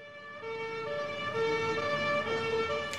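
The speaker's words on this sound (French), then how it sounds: "Les flics déboulent toutes sirènes hurlantes" Police sirens wail as a patrol rushes in, steady tonal wails with a second rising-and-falling tone layered in, loud and sustained throughout with no talk.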